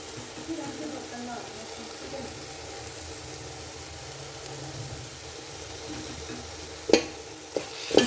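Carrot halwa with khoya being stirred and roasted in a pan: a steady low sizzle runs throughout, with a few sharp clinks from the spoon near the end. No voices are audible.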